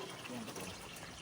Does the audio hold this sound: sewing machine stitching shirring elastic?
no